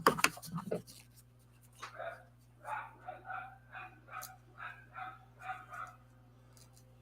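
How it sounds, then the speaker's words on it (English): A dog barks outside at passers-by on a path, a steady run of about ten medium barks heard from some distance. Each bark is spaced roughly half a second apart over a low indoor hum, after a brief clatter nearby. "He's out at the path, barking at all the passers-by."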